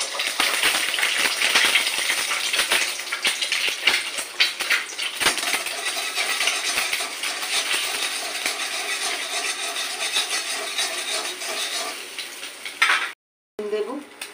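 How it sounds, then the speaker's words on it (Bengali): Egg frying in oil in a wok over lowered gas heat for a Bengali egg tarka, a bright continuous sizzle with occasional stirring scrapes and a brief clink, then a sudden cut near the end. "একটা ডিমটাকে আমি ফাটিয়ে একটা ডিমটা আমি ভেজে নেবো।"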